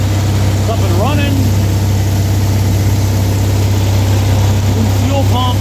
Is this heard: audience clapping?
no